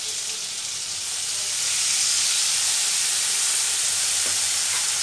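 Water poured onto a frying paste of cumin and turmeric for a Bengali fish curry, a loud rushing steam hiss that swells after a second or two and holds steady, no voices.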